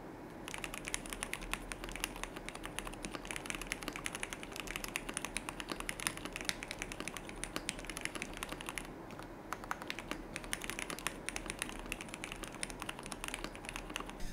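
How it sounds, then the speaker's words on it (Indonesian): Continuous, fairly quiet typing on a KBD67 Lite mechanical keyboard, with dense, rapid keystrokes and no talking. "buat typing testnya silahkan kalian dengerin aja sendiri"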